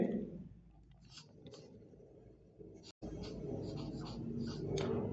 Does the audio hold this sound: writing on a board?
yes